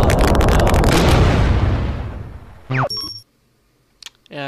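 Loud explosion in a video game, a big booming burst that decays over about two seconds, followed by short electronic chime-like game sounds.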